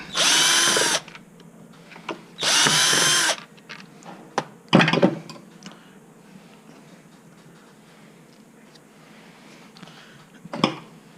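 A cordless power drill backs screws out of a housing during a battery connection replacement, two sustained whirring runs close up, followed by a few quieter clicks and knocks as the screws and housing are handled.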